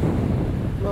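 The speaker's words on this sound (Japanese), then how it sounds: "お聞きのように風がすっごいです。" Strong wind gusting straight into the microphone at Diamond Head Beach Park on the Hawaiian coast, a loud, constant roaring buffet that buries any surf sound.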